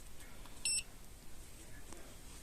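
A Dnipro-M automatic multimeter's hidden-wiring detector gives one short, high electronic beep, faint against a quiet background.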